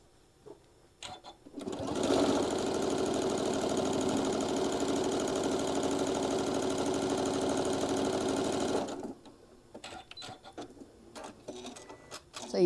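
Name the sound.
sewing machine stitching table runner seams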